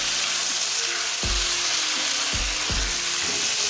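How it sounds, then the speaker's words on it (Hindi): Chicken fries in oil in a karahi, a loud, dense, continuous sizzle with a few dull knocks of a spoon stirring against the pan, no speech. "इसको अच्छे से फ्राई करेंगे, गोल्डन ब्राउन होने तक इसको फ्राई करते जाएंगे।"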